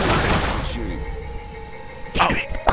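Rapid bursts of gunfire at a Boomer in Left 4 Dead, loud volleys at the start and again near the end with a quieter stretch between, under players' voices.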